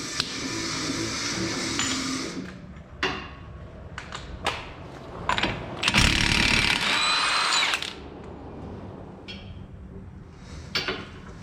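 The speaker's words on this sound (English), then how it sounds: "next we're going to be removing the CV axle nut." Power tool breaking loose a 32 mm CV axle nut on a Mazda 3, bursts of whirring and rattling impacts separated by short pauses, with one longer, louder run in the middle, close by.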